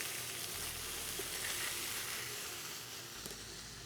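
Beef rouladen searing in a very hot pan in a second batch, a soft continuous sizzle and hiss, fairly quiet and steady, with no voices over it.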